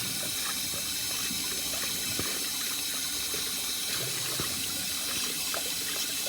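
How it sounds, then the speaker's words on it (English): Water gushing steadily through a part of a 1948 Morris 8 during a flush-out, a continuous close hiss and splash with no pauses. "I'll flush some water through that and see what happens."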